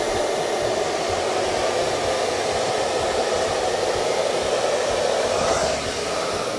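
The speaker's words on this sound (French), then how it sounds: "À l'aide de mon sèche-cheveux, donc petite vitesse" A hair dryer running on low speed gives a steady, close, broadband whoosh of air that holds evenly throughout with no voices.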